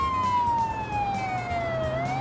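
A police siren on a Škoda Superb in the BeamNG.drive driving game wails steadily and loud, its electronic tone sliding slowly down and then back up, heard alone with no talking.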